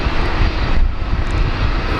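Boeing 737 MAX jet rolling for takeoff at Brisbane Airport, a loud, steady roar of engines with broadband rumble holding constant and close throughout.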